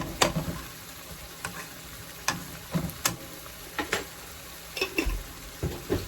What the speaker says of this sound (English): let's just let this fry for about 1 to 2 minutes